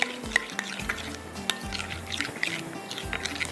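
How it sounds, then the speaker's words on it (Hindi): Spice masala stirred and mixed in a pan for masala spaghetti, repeated spoon scrapes and clinks against the metal over a low wet frying sizzle, close and rhythmic, with no speech. "इसको अच्छी तरह से आपने मिक्स करना"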